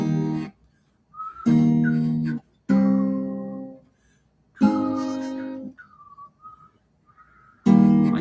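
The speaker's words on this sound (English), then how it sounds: "I kind of whistle." A man whistles a few short, wavering tune phrases in a casual home setting. The whistling alternates with louder bursts of his voice singing or speaking between them.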